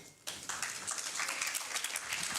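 An audience at a Pan-African conference on girls' and women's education breaks into a dense, steady round of applause for Dr. Dirahisha Janvière, starting suddenly and holding loud, with no talking.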